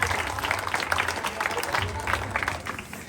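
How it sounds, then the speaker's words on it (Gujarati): An audience at a Ganesh Utsav gathering at a row-house society applauds in a dense, steady wash of clapping that lasts the whole three seconds. "નયનાબેન અને જલ્પાબેનનો ખૂબ ખૂબ અભિનંદન દર્પણ રો હાઉસ તરફથી તાળીઓથી વળગાવી દેજો"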